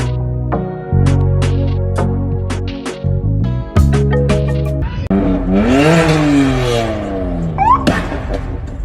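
A car doing a burnout on a public road, engine revving hard in stepped bursts before a harsh, rising, broadband tire screech takes over, loud and close.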